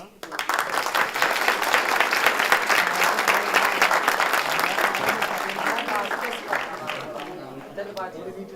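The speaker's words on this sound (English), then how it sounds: "So let's clap." Audience applause for the final winners at Bennett University's Aalekh 2K23 event, a dense, sustained clapping from a crowd that runs the whole stretch before easing off slightly near the end.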